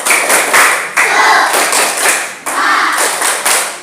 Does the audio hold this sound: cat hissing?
no